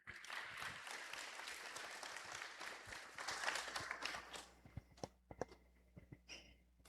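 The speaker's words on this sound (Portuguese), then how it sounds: "Uma salva de palmas para o pessoal de Araranguá" A crowd at a family descendants' gathering gives a round of applause for the guests from Araranguá, Santa Catarina, dense clapping that thins out into scattered individual claps toward the end.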